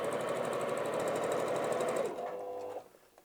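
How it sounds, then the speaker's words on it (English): A sewing machine runs a line of top stitching on a fabric wallet, a steady close whir that stops sharply near the end, followed by a brief quieter mechanical tail. "I'm just going to run a quick line of top stitching just to secure that in place"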